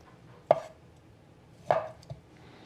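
A knife cuts food into chunks on a cutting board in a home kitchen: two crisp, distinct chops about a second apart, the second followed by a lighter tap, close and alone against a quiet background.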